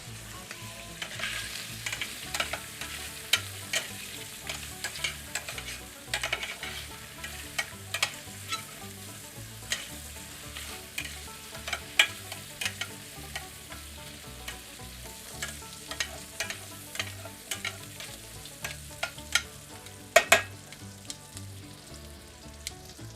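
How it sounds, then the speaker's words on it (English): Andouille sausage sizzles and fries steadily in a pan, a continuous crackling hiss punctuated by frequent clicks and scrapes of stirring, close and fairly loud with no talking. "All right, andouille sausage. Let's get that all sauteed up or browned up, whatever you want to say."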